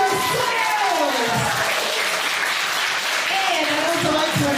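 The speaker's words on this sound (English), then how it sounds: "Give me a round of applause for yourselves." Steady, loud applause from a large audience at a live show, continuous clapping filling the whole stretch without a pause.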